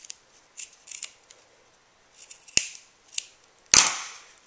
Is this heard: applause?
no